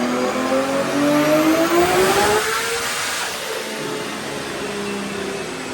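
A Toyota 1JZ-engined drift car, unprepped and built to roughly 957 on the dyno, screams up through its revs toward 10,000 rpm, one loud, close rising pull that tops out and then settles into a steady high drone.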